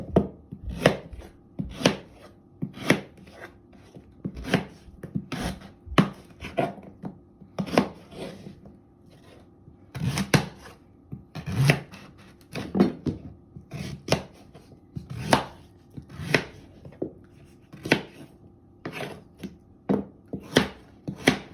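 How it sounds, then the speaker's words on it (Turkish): Sugar beets are chopped with a knife on a board, a steady series of sharp, close chopping strikes at an even rhythm, with no voices. "Bunları da böyle doğrayacağım."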